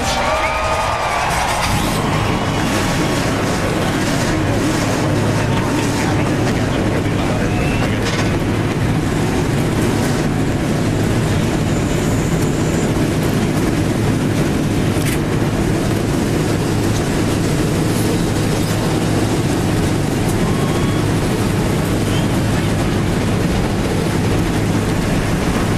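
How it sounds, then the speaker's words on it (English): NASCAR race cars firing up their engines at the 2009 Sam's Town 300 in Las Vegas, a dense, continuous roar of many engines blended with crowd noise, loud and steady throughout. "Gentlemen, start your engines!"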